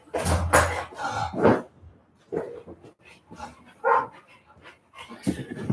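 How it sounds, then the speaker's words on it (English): Several dogs scuffle and bark loudly through a gate in close, rough bursts separated by short pauses. "My dogs are scrapping through the gate."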